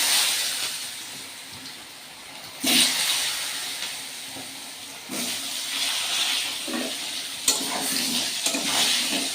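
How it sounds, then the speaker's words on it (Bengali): Potatoes frying in a wok with salt and turmeric, a continuous hissing sizzle that surges as each piece drops in, with occasional stirring scrapes. "কড়াইতে লবণ, হলুদ দিয়ে তারপরে এক এক করে আলুগুলো ছেড়ে দেবো।"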